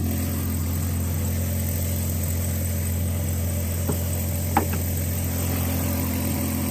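A Volkswagen Passat engine idles with a steady, even low hum and a faint vibration, punctuated by a couple of soft clicks, with no talking.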